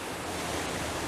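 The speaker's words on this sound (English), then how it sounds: "Now this little waterfall is beautiful." A small waterfall spilling over wet, algae-covered rocks, heard as a dense, steady rush of falling water that fills the short stretch, close and fairly loud with no voices.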